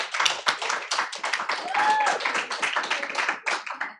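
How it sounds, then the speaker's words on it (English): Applause from an audience at a school district board meeting, a dense crowd of hand claps sustained for about four seconds, steady and loud throughout, with faint voices mixed in. "give Miss Esteban and Miss Granger a big round of applause again"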